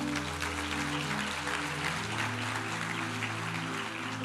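Congregation at a church service applauding, a broad, steady patter of many hands heard at moderate distance, with sustained low musical tones continuing underneath throughout.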